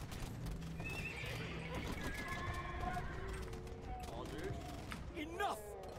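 A horse in the Age of Empires II video game neighs and whinnies several times over clip-clopping hooves and a busy backdrop of game sounds, with a sharp rising whinny near the end.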